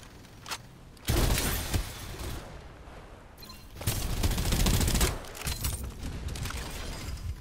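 Bursts of automatic gunfire in the battle-royale shooter Farlight 84, two long rattling volleys with a short gap between, loud and close, with scattered single shots.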